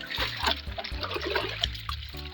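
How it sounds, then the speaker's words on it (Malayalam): Water pours and splashes over large raw chicken pieces as they are washed for a curry, a close, uneven running trickle broken by small splatters. "കോഴിക്ക് വെള്ളം ഒഴിക്കാം"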